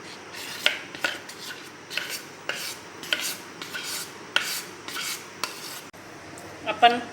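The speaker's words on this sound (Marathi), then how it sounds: "आणि या पॅनमध्ये आता आपल्याला हा जो आपला सारण आहे हे सारण यामध्ये टाकायचे आहे." Spiced stuffing filling being spooned and scraped into an oil-greased pan, with repeated sharp clinks and scrapes of a metal spoon against the pan in an irregular rhythm, close and clear with no talking.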